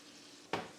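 Chicken pieces for chicken saltimbocca hit hot oil in a pan with a sudden loud burst of sizzling about halfway through, after a quiet stovetop background, then settle into a steady, slightly softer frying hiss.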